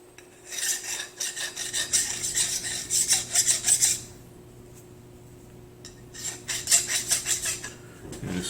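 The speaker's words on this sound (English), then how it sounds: "We're going to deburr it." Deburring a machined metal part on a manual mill, with two bursts of close, scraping rasps in quick strokes separated by a quiet pause, over a steady low machine hum.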